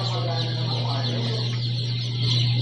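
Newly hatched Rhode Island and black Australorp chicks peep among clucking chickens, a dense chorus of overlapping high chirps and clucks over a steady low hum, close and constant throughout.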